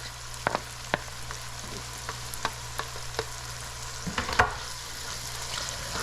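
Ginger sautéing in a pan for a pork stew with lima and red beans, a soft steady sizzle broken by sharp spatula clicks and taps, with a brief spoken word near the end.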